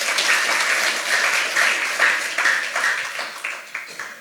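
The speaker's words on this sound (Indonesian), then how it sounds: "Tepuk tangan untuk Tuhan." A church congregation at an Easter service breaks into lively applause, many hands clapping together in a full, steady burst with some individual claps standing out as it trails off.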